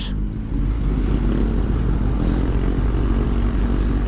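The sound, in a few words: Kawasaki ZX10R motorcycle engine with Akrapovic exhaust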